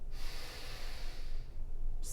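A deep, steady inhale during a yoga flow for back pain relief, heard as a long, airy, close-up breath drawn in without speaking.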